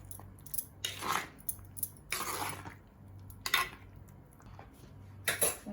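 Khichdi ingredients being stirred together in a pot, with several bursts of metal spoon scraping and clinking against the cookware, separated by short quiet gaps.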